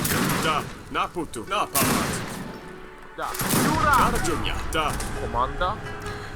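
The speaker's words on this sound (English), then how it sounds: "these heavy cannons are going to slowly push them down" Heavy cannons fire in Age of Empires III: Wars of Liberty, with repeated booms and bursts of gunfire through the battle. Commentators talk over most of it.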